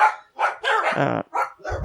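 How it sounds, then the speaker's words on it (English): Several dogs bark in quick succession, sharp repeated yaps close by with short pauses between them. "there goes the dogs"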